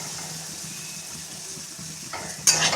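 Pointed gourd and jackfruit seeds fry in oil in a wok over low heat with a steady soft sizzle. Stirring scrapes and clatters come louder near the end, with no talking.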